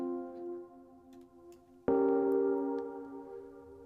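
A synthesizer patch named Summer Sign sustains a soft harmonic drone, then a brighter tone strikes sharply and holds, slowly fading; no voices.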